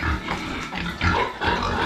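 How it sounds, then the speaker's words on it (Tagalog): A sow on a farm grunts repeatedly and loudly at close range, with the low, rough grunts running almost continuously through the moment. "Ito yung inahing baboy."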